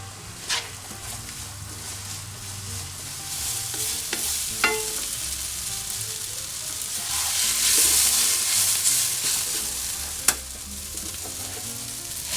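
Sliced mushrooms sprinkled with salt are stir-fried over high heat for Japanese curry, hissing in a steady sizzle with occasional sharp taps and scrapes of a utensil against the pan.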